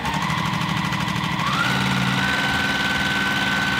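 A sewing machine stitches a long fabric strip for a churn dash quilt block, running as a steady, close, rapid mechanical chatter with a slight shift in pitch partway through and no voices over it.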